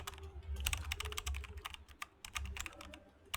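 Rapid keystrokes on a computer keyboard, typing a text prompt into an image generator, close and fairly quiet with uneven bursts of clicks over a low hum.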